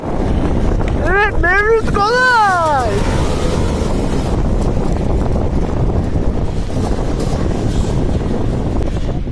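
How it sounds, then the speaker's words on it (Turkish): Strong wind roars steadily into the microphone on a freezing mountain lookout during an enduro tour near Antalya, a constant loud buffeting with someone speaking briefly near the start. "Acayip rüzgarı esiyor."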